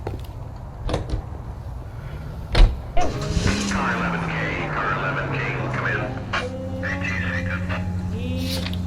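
A car in the L.A. Noire video game: sharp door thumps and clunks are followed by an engine starting and settling into a steady, droning idle, with a voice talking over it.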